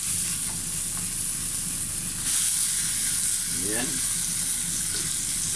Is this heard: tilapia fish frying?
yes